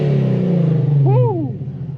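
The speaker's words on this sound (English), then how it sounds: "So let's go ahead and give y'all a rev" An E85-tuned Infiniti Q50S engine holds a loud, close, deep idle rumble that swells briefly in a quick rev and then settles back down.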